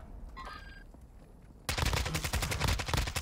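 Loud, rapid automatic gunfire erupts in dense overlapping bursts during a Warzone 2 video game match, after a quieter stretch with faint electronic tones.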